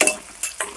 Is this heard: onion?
yes